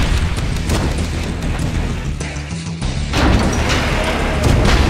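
Bombs dropped from aircraft in Red Alert 2's Mental Omega mod burst into a dense, continuous barrage of loud, heavy booms and crashes, briefly thinning for a moment before the blasts surge back.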